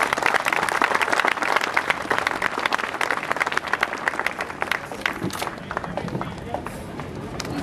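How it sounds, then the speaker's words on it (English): Loud, close audience applause at a corporate annual day celebration, a dense crackle of many clapping hands that runs for several seconds and slowly thins toward the end. "Can we have a round of applause for that feat?"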